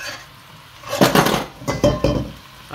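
A knife clatters against metal cookware in a home kitchen, giving several loud, close clanks and rattles in quick bursts with no talking.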